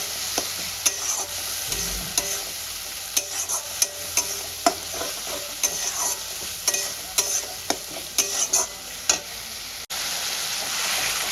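Spices sautéed in a pan, with a spoon scraping and stirring in irregular knocks over a low continuous sizzle, close and alone without any talking.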